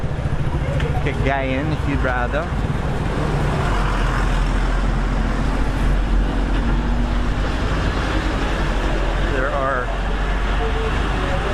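Buses bound for Cagayan drive past on a roadway, a steady loud rumble of engines and traffic running throughout. Someone talks over the noise, and a bird chirps in places.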